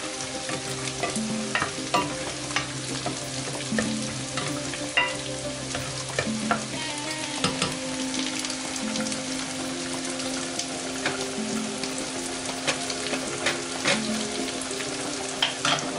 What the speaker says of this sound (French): Et puis je viens remuer en marmite.